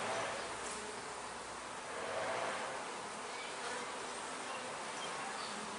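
A dense, steady hum of many honeybees buzzing together at a hive, close and continuous, with no voices.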